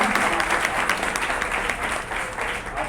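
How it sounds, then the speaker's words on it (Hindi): An audience claps steadily and densely throughout, a continuous close wash of many hands at a school gathering with no pauses. "ताली बजाइए।"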